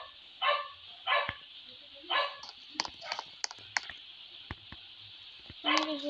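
A dog barks several times, a short burst followed by scattered single barks, moderately near, with clicking and tapping sounds in between and a final louder bark near the end.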